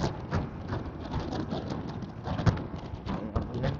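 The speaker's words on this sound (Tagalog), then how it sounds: "Ay, ulan siya." Steady rain pattering on a road or vehicle during a drive near Dahican in Mati, Davao Oriental, forming a dense continuous hiss with scattered louder drops, moderately near and without talk.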